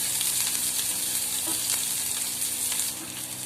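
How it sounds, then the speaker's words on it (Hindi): Chopped onions frying gently in a pan over a low simmer flame, a steady soft crackling sizzle with faint scrapes of stirring, close and continuous with no talking. "ये मैंने इसके अंदर ऑनियन डाल दिया है। तो और गैस हमें बिल्कुल सिम रखनी है।"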